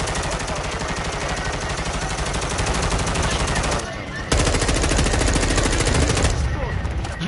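Call of Duty Modern Warfare 2 on PlayStation 5 gives loud, continuous automatic gunfire that rattles rapidly for several seconds, breaks briefly, then resumes just as dense.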